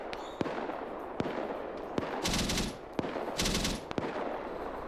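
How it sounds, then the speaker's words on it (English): A burning ammunition cache cooks off in a military video game: sharp, isolated bangs at irregular intervals over constant crackling, with two denser bursts of rapid popping. "So they're burning this ammo cache, so I'm just gonna delete it."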